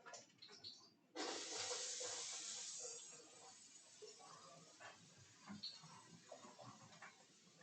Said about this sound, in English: We'll get a sizzle now. Let's go. The onions in first.